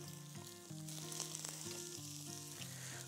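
Thinly sliced smoked bacon frying on a grill side burner, giving a steady close sizzle with crackling pops and a low background hum, and no voices.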